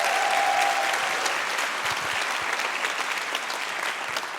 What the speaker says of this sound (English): Can we have a round of applause for K1?